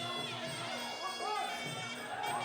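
Crowd at Simbi Boxing Stadium during an MMA bout, a steady wash of cheering and shouting from many spectators, with a commentator's voice running over it.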